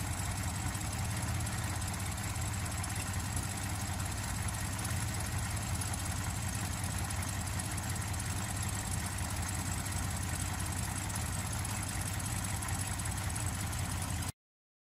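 Rebuilt 1953 Chevrolet Bel Air two-door sport coupe engine idling, a steady, dense, continuous rumble with even mechanical texture, close and fairly loud throughout before stopping abruptly.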